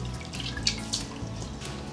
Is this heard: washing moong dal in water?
yes